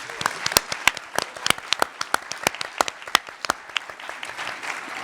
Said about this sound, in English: So one more round of applause for everybody.